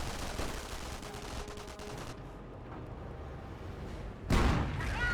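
Submachine-gun fire from an MP40 squad trading shots with an American rifle squad in a Company of Heroes battle, dense bursts and scattered shots at mid distance, briefly thinning before a louder close burst near the end.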